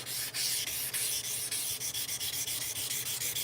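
Fine 600 grit sandpaper rubs back and forth in quick, regular strokes at close range, a soft rhythmic scratching with no talk over it.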